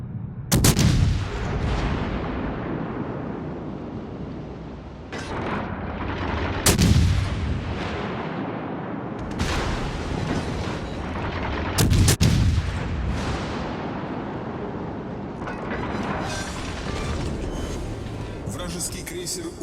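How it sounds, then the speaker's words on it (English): Heavy naval gun salvos boom out in a World of Warships: Legends battle against a Surrey cruiser, three big blasts spaced several seconds apart over a continuous rumbling battle bed, with a voice talking throughout. "Two beautiful AP salvos send the Surrey to spectating mode"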